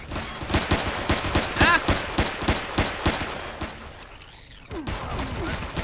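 Rapid gunfire from the sci-fi survival game Empyrion, a dense run of sharp shots in steady rhythm, close and loud, breaking off briefly before a few more bursts with synthetic sweeping effects.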